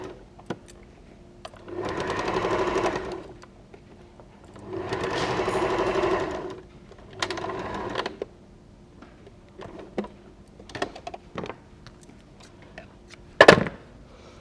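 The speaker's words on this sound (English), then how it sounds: "So just a normal straight stitch" A sewing machine runs a straight stitch joining scrunchie fabric into a loop, in three whirring bursts of a couple of seconds each separated by pauses, followed by small clicks and handling noises, close and clear.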